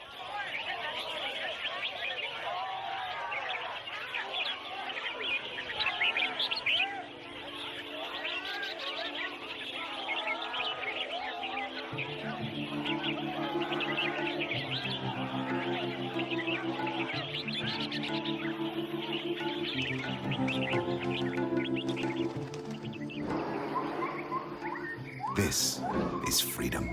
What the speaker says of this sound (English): here participating in a bird singing competition.